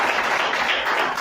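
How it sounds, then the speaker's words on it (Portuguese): Congregation in a church service applauding, a brief dense burst of many hands clapping close and loud with no pause. "Quem crê pode aplaudir."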